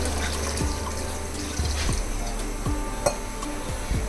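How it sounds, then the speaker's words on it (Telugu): Water is poured into a pan of country-style chicken curry, a steady trickling splash up close with a few light clinks of utensils and no talking. "ఇప్పుడైతే మనం వాటర్ వేసుకుందాము."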